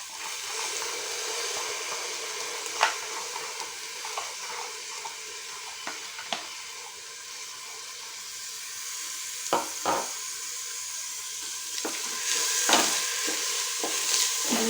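Washed Gobindobhog rice stirred in a pot for bhog khichuri, soft scraping strokes and occasional sharper knocks over a gentle background sizzle, close by, without speech.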